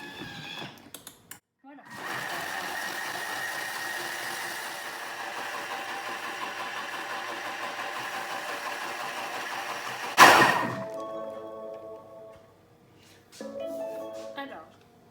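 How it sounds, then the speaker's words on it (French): A Thermomix blends fruit into juice at speed 10, a steady whirring motor roar that holds for several seconds and then cuts off abruptly, followed by brief speech and light handling noises. "je vais passer en vitesse 10 jusqu'au bout"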